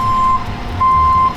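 A tow truck's reversing alarm sounds two steady, high-pitched beeps over a low engine rumble, close and loud.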